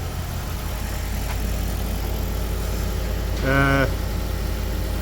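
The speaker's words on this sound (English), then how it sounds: "as you can see, engine is running" A Toyota Prius hybrid engine, diagnosed for overheating, runs at a steady idle, a continuous low hum, with a brief tonal beep rising near the end.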